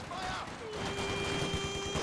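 Rapid machine gun fire from a skirmish in Company of Heroes 2 as conscripts flank the gun position, a dense crackling burst of shots heard under ongoing match commentary.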